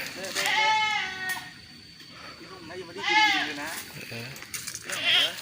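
A goat bleats loudly and nearby in a few drawn-out wavering calls while it is being herded outdoors near a Japanese cave, with a person talking between the bleats.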